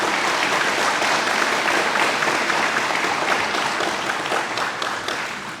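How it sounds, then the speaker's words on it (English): A crowd applauds at a police department's first annual awards banquet, with dense, sustained clapping that stays loud throughout and tapers slightly at the end. "let's give them a round of applause for the work that"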